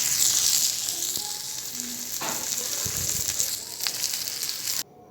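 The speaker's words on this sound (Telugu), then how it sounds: "సో ఈ మిర్చీలు వేగడానికి చాలా సమయం పడుతుందండి." Stuffed masala chillies, simla mirchi filled with spiced besan, fry steadily in hot oil in a pan, a continuous close sizzle broken by a few soft knocks and scrapes of a turning spoon.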